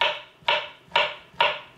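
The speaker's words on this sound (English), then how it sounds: "Just going to slice them" Knife slicing two bananas on a cutting board, four evenly spaced crisp cuts, each a sharp tap followed by a short fading scrape, close and fairly quiet.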